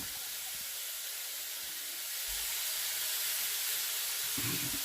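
Brined chicken sizzles steadily in a hot pan, a constant close hiss with no talk, and a brief louder burst of sound right at the end.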